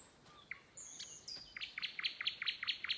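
Nightingale singing from a tree outdoors: a few thin whistles, then a fast series of bright repeated chirping notes, clear and fairly close, with no talking.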